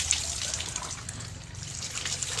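Pumped water pours steadily during a daily home shower, a soft continuous splashing hiss that stays even throughout.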